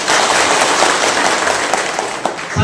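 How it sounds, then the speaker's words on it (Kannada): A crowd claps loudly and continuously at a preparatory meeting for Valmiki Jayanti, the dense applause filling the whole moment close by and tapering slightly near the end. "ಅದಕ್ಕೊಂದು ಜೋರು ಚಪ್ಪಾಳೆ ಕೊಡಿ."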